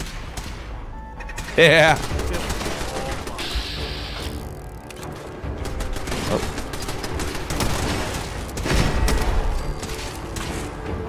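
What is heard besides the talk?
turret firing in the video game Fallout 4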